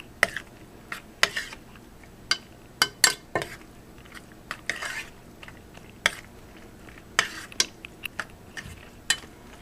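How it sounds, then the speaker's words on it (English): Creamy butternut squash pasta being stirred in a pot gives irregular clinks and knocks of a utensil against the pot, with soft squelching moments between them. "I'm going to put the pasta in. Mix it up."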